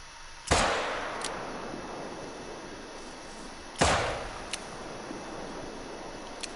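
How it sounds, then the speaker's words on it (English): Two sharp pistol shots on a hunt, fired a few seconds apart, each a loud crack followed by a long outdoor echo tail over a faint steady background. "definitely gonna attempt to take it with a pistol from here"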